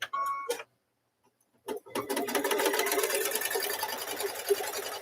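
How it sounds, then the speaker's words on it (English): A sewing machine stitches a quilt block: two short starts separated by a silent pause, then a close, steady, rapid mechanical whirr of needle strokes that runs to the end with no talk. "Now that sounds like it's sewing."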